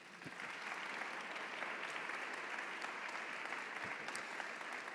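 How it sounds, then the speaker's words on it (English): Conference audience applauding three panelists at re:publica 2017 before a panel begins. Dense, steady clapping from a crowd holds at an even level for the whole stretch, with a few sharper individual claps standing out and no talk. "please give a round of applause to our three panelists before we start the panel"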